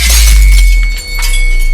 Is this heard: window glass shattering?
yes